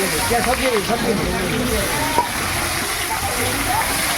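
Onions hit a pan of meat frying with whole garam masala and dried red chillies, producing a loud, continuous sizzling hiss on a rooftop while voices talk over it.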